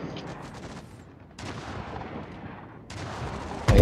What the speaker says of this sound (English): Just started shooting at me.